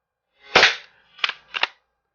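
A freshly resealed Hahn Super Repeater lever-action CO2 BB gun fires three sharp pops outdoors, one louder shot followed after a pause by two quicker ones, each with a short tail and silence around them.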